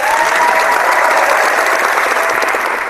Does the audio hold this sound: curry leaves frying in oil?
no